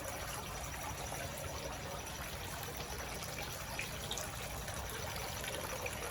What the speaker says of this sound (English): At least we got the water feature, even when the flowers quit blooming.